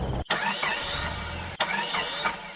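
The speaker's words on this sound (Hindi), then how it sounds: "कुछ देर चले ही होंगे कि उनकी गाड़ी बंद पड़ गई।" A car engine sputters and cuts out in an animated horror story, an abrupt break followed by a rough, uneven mechanical rumble with a second jolt partway through, alone and fairly close.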